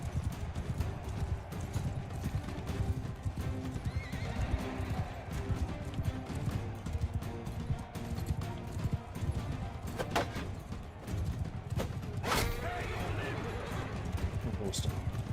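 Horses in the video game Mount and Blade 2: Bannerlord, a continuous rapid clatter of galloping hooves amid battle noise, with brief whinny-like bursts and a faint voice talking underneath.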